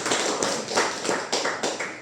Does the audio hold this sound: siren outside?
no